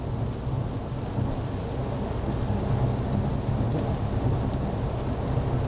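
Steady rain falling outside with low rumbling thunder rolling underneath, a continuous dense wash of sound with no voices.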